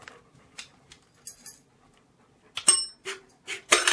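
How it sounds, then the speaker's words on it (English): A trick dog rings a bell: scattered small taps and jingles, then several brighter, louder metallic rings close by in quick succession near the end, with no speech. "Ring the bell."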